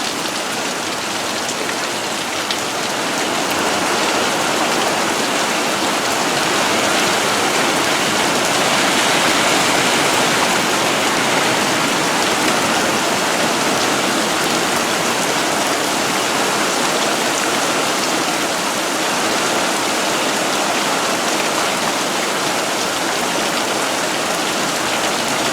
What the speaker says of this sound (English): This is like a medium rain to us, or about.